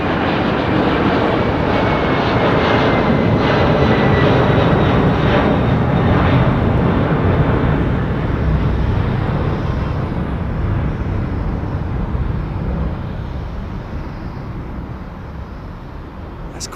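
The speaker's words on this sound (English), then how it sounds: "Look at this lovely old 764. With United, wow, look at that, a United" A United Boeing 767-400 jet airliner roars at London Heathrow, a broad, loud, steady engine rumble that slowly eases and fades toward the end.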